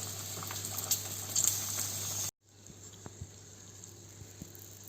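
Egg-and-corn-breadcrumb patties frying in a pan give a steady crackling sizzle with soft popping, which cuts off abruptly halfway through, leaving a much quieter hiss with a few faint ticks.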